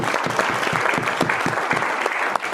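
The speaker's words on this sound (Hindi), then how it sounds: "एक बार जोरदार ताली हो जाए उसके लिए" An audience at an event breaks into hearty applause, close and energetic, with individual claps standing out within a continuous roar of hands for about two and a half seconds.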